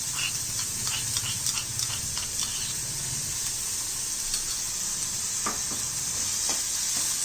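Crushed garlic and green chilies sizzle in a hot pan while a sprouted mung bean curry cooks, a steady hissing fry with a few soft clicks of stirring, close and unbroken throughout.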